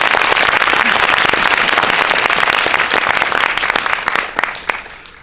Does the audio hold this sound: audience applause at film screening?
yes